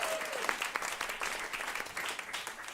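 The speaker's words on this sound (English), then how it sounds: "Another round of applause for them, please." An audience applauds performers at a talk on food systems, a steady burst of clapping that holds at an even level for the whole stretch with no voices over it.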